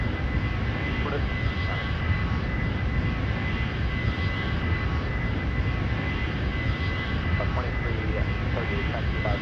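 A Boeing 757 jet departs London Heathrow in foggy weather, its engines producing a loud, steady, continuous roar throughout, with faint radio voices underneath.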